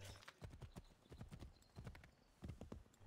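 Horse hooves clip-clop steadily at a trotting rhythm in the Assassin's Creed III video game, close and fairly loud, with no speech over them.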